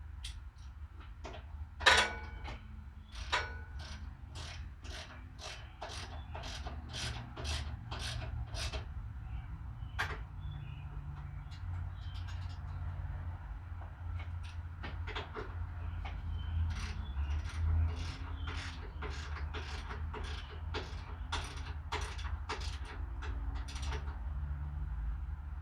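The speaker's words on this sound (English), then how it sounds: "Tighten up the bolt." A ratchet tightens a bolt while lowering a Honda Shadow motorcycle, giving long runs of quick, crisp clicks close by over a low steady hum.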